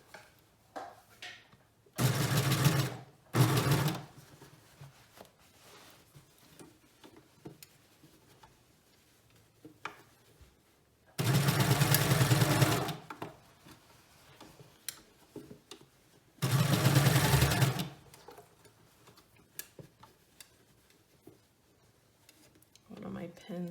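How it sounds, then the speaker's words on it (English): A serger runs a seam on a sleeve cuff for a Blake bomber jacket in three loud, steady bursts of a few seconds each, separated by quieter handling and pauses. "Or I'm going to use my serger"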